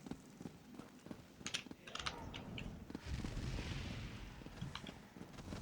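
Battle in the Elder Scrolls Online game, with bursts of gunfire-like cracks and clashing impacts over a dense, steady din of fighting that fills the whole stretch.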